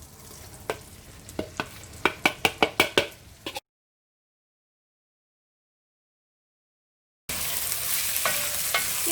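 Seasoned coated beef for beef stroganoff fries and browns in a pan. A sizzle is punctuated by a quick run of spoon knocks against the pan, then there is a stretch of complete silence before the steady sizzling resumes.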